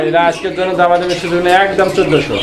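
A pair of pigeons offered for sale coo steadily and close, low throaty calls overlapping continuously for a couple of seconds.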